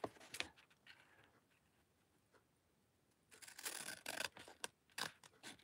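Paper for a hand-made thankful journal is cut with scissors, with a few quiet snips early, a near-silent pause, then a busier run of close, crisp cutting and rustling.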